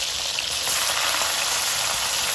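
Loud, steady hiss of onions frying in a pan for Tuscan chicken, a dense close sizzle with no talking.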